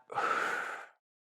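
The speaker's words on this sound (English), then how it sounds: "Let's take a deep breath in, gentle breath out." A person takes a slow, deep breath in and then lets out a gentle, breathy exhale, close and clear, during a pelvic floor exercise session, and then there is silence.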